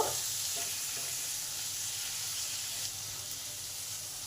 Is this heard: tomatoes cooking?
yes